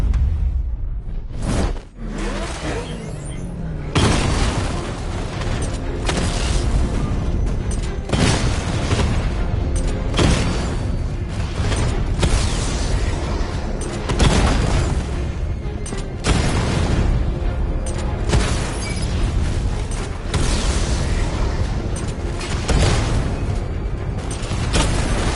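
Batmobile 60mm cannon fire in Batman Arkham Knight lands as repeated loud booms and explosions, with whooshes and mechanical clanks in a dense, continuous battle mix.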